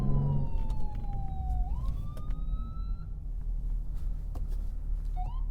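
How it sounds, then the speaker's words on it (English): An ambulance siren wails through city traffic, sweeping down and then rising again, heard over steady road and engine rumble from inside a vehicle. "And I hear an ambulance because there's an ambulance behind me."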